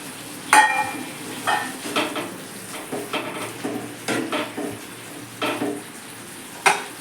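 Pointed gourd pieces added to a pan of partly cooked potatoes for a vegetarian muri ghonto, heard as scattered scraping and stirring clatters of a utensil against the pan over a soft sizzle, close and moderate.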